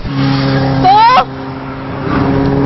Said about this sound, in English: Check out these super bikes!